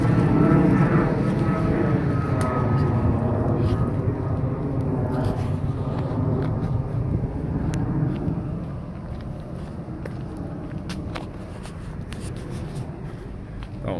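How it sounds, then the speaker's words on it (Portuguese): A low, broad aircraft rumble fills the background at a lakeside park in Versoix, Geneva, Switzerland, slowly fading as the plane passes overhead, with faint talk and small clicks on top. "Vou só o avião passar aqui."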